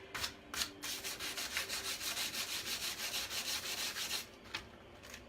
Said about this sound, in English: hopefully this is a rough enough sandpaper